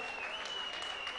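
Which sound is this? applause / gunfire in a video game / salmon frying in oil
applause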